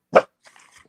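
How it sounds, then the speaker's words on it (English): A dog gives one loud, close bark, followed by a fainter, brief whimpering yelp. The clip is indoors, and someone is on the phone nearby. "Ivanka Melania Trump, you better stop barking while Lori, your godmother's on the phone"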